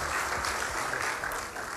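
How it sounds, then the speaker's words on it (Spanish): Applause for Cristina at a school event in Argentina, a continuous dense patter of many hands, fairly quiet and even, with no talking on top. "un aplauso para Cristina"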